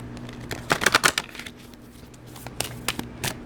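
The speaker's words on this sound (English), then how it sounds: "we got cards falling" A tarot deck is shuffled, giving a flurry of soft papery flicks and slaps as cards drop, then a few scattered taps later; no one speaks.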